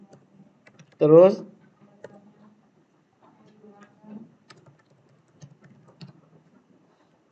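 Sparse clicks of typing on a computer keyboard, quiet and irregular, following a short spoken word and continuing in scattered taps with faint background noise.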